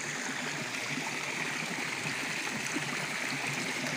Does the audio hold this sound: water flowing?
yes